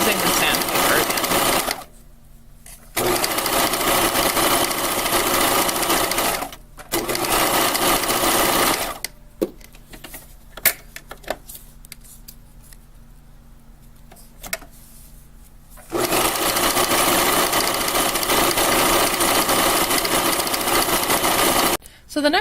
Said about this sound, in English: Then you'll sew the other side of the strap the same way, sewing a stitch line 1/8 of an inch from the edge of the strap